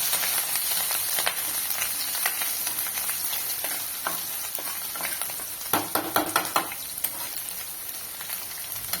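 Garlic cloves frying in oil over a low flame, a steady close sizzle with occasional stirring scrapes and clinks, louder in a brief cluster near the end, no voices.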